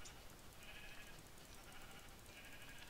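Sheep bleating in a blocky survival video game, a few faint wavering bleats close together over a soft background hiss, with no talk.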